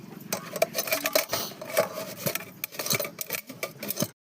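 A peeled raw mango is scraped against a metal grater in a village kitchen, producing a steady run of close, scratchy rasping strokes with light clinks, stopping abruptly at the end.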